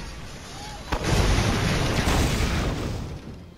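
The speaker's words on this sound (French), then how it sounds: "j'ai touché la maison avec ma grenade à ion" Ion grenade from Destroy All Humans 2 exploding against a house, a sudden crack followed by a loud, sustained rumbling blast that slowly fades, with a voice briefly audible.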